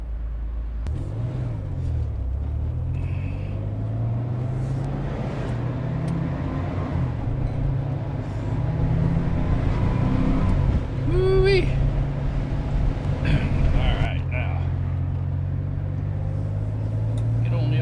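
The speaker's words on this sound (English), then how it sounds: "Usually have a lot of traffic on this little road this time of day, and today doesn't seem to be any different." Car traffic on a small road mixed with the steady drone of a turbocharged vehicle's own engine, revs rising and falling, with passing vehicles and a brief squeal midway, under ongoing talk.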